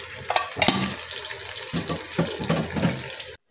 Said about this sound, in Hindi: इसमें हम एक कप पानी डाल देंगे।